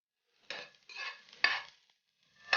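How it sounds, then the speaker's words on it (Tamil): Sliced onions go into coconut oil in a pan and get stirred, with three or four scraping, sizzling bursts separated by brief quiet gaps and no talk. "அந்த பேனில் தேங்காய் எண்ணெய் கூடவே இந்த ஸ்லைஸ் பண்ண வெங்காயமும் ஆட் பண்ணிடலாம்."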